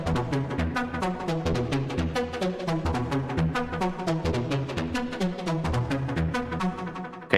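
Synth arpeggio played in unison mode with an odd-harmonics waveform for a drum and bass track, a steady run of fast, evenly spaced plucked notes with a hollow, buzzy tone, continuous and alone without talk.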